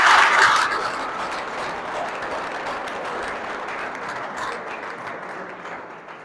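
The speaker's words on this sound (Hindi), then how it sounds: "जोरदार एक बार ताली बजा के शोर मचा के बता दो" An audience at a comedy road-safety awareness show claps loudly, a burst of dense applause that peaks at the start and then tapers into a softer, sustained patter.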